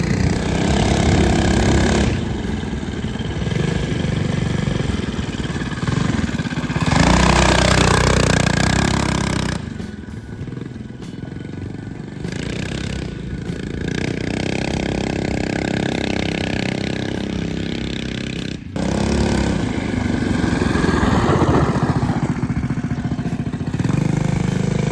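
A rebuilt small performance engine, an upgrade over a GX160, runs loud and steady throughout with a rough, buzzing mechanical tone, briefly dipping in level midway before revving back up.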